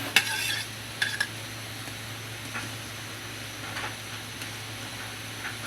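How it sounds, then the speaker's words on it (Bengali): Fried small fish go into boiling rice-starch curry in a rustic home kitchen, with a few light utensil clinks and a stirring scrape over a steady low bubbling hiss. "ফুটে আসছে, এবারে ভেজে রাখা মাছগুলো দিয়ে দিব।"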